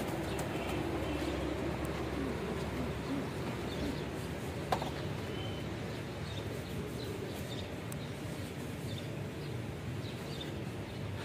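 Breeder pigeons coo softly in the background, with faint, low, repeated calls over a steady hum and no speech.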